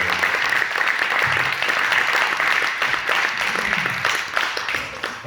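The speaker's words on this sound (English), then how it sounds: "Let's give a big round of applause for this guy right" A crowd at a speaking event applauds steadily for several seconds, a dense wash of clapping with a voice faintly underneath.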